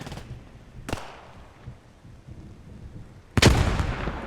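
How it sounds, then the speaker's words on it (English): Gunfire in the World War II video game Post Scriptum: a few sharp shots ring out, two quick reports early and a louder, closer blast near the end, over a quiet rumbling battlefield. "Germans haven't quite figured out they're taking shots from behind"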